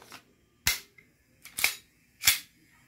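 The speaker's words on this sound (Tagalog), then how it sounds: "O yan, itest fire na natin." A WE T-Rex Black gas blowback airsoft rifle fires three sharp, loud, close cracks about a second apart, each shot snapping with a quick mechanical clack.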